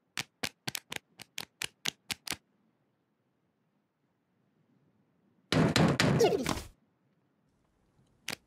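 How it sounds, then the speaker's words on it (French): In a French-language Twirlywoos children's cartoon, a quick run of about nine sharp knocks on a door, then silence, a brief loud burst of rattling noise, and one last faint knock. "Quelqu'un frappe à la porte."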